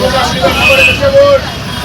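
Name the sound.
riding on a bus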